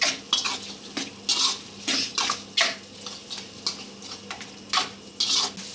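A spoon stirs chicken gravy with pepper powder in a pan, making quick, rhythmic scraping and clinking strokes close up, about two or three per second, with no talk.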